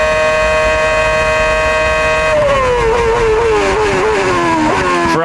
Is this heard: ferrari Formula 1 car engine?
yes